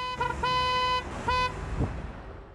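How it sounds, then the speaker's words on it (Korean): Car horns honk from behind at a city crosswalk as pedestrians are still crossing, several insistent beeps of two overlapping tones in bursts, with road traffic rumbling underneath. "이내 뒤에선 너는 왜 가지 않느냐는 듯 빵빵 경적 소리가 들려왔습니다"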